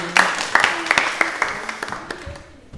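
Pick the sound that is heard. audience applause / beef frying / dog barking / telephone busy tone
audience applause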